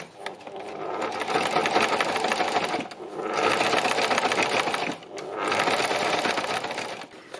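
A sewing machine runs stitching along the top edge of a mountain-range shape on a moonlight-themed piece, three sustained close bursts of rapid needle clatter separated by brief pauses.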